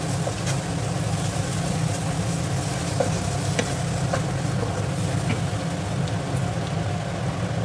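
Spiced jackfruit curry masala fries in oil while it is stirred, giving a steady close sizzle with occasional scrapes and taps of a spoon against the pan and no voices.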